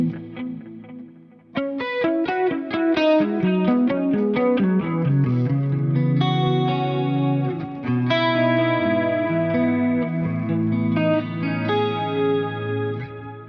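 A high-gain electric guitar runs through a Fractal amp-modeler preset with a Coliseum reverb at 25% mix, playing loud, sustained distorted notes and chords that ring out with a wide, spacious wash.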